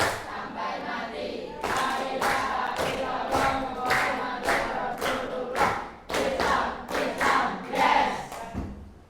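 A group performs the rhythmic 'tepuk anak soleh' clap chant in an Islamic religious education class, with a regular series of sharp, loud hand claps spaced across the clip, mixed with voices chanting along.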